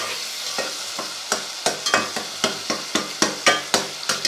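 Spice masala roasting in ghee in a pan crackles under rhythmic stirring, with a spoon scraping the pan in a fast, regular series of strokes.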